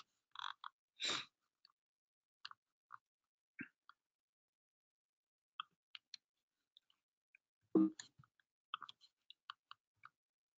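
A computer mouse clicking in a quiet room, a scatter of faint, sharp, irregular clicks separated by silence.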